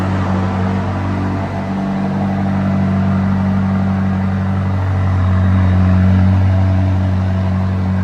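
A McLaren 570S engine with an aftermarket exhaust starts and rumbles loudly and steadily at close range, a low droning idle that swells slightly as it revs.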